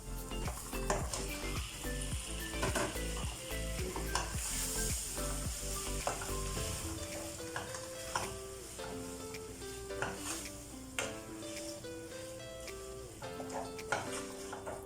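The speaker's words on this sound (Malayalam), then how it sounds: "ഇതിലേക്ക് നമുക്ക് ചിക്കൻ പീസസ് ഇട്ട് കൊടുക്കാം" Chicken pieces for a chicken roast fry and are stirred in a pan, making a continuous sizzle with frequent clinking and scraping, partly under background music throughout.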